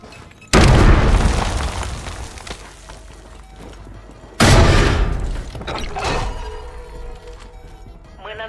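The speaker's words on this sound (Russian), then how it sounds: "Мы наносим точечный авиаудар." Two heavy, booming airstrike explosions in the video game Call of Duty Warzone, each a sudden loud blast that rumbles and decays over several seconds, followed by fainter bursts and game noise.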